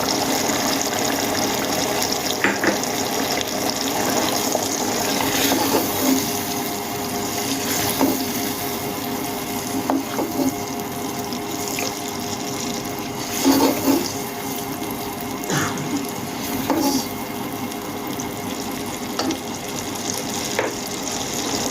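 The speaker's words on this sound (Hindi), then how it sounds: "चावलों का पानी गिराकर इसमें चावल भी शामिल कर लेंगे।" Steady running water pours and splashes continuously as it is drained from soaked rice, with a few clinks of a vessel, moderately loud and close, no talking.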